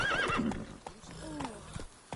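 Horse in The Witcher 3: Wild Hunt whinnies at the start, with clip-clopping hoofbeats thudding through the rest of the short stretch, close and fairly loud.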